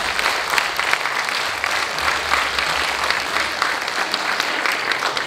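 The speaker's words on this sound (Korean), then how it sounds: "여러분 박수 부탁합니다" Sustained, dense applause from the audience at a university president's inauguration ceremony in Busan, steady and even for several seconds with no talk over it.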